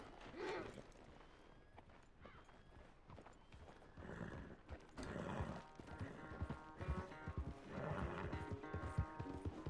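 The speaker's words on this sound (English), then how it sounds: "Where's that big mean horse?" In the video game Red Dead Redemption 2, a horse in a corral neighs and whinnies several times while hooves clip-clop and stamp nearby, the sounds rising and falling in bursts.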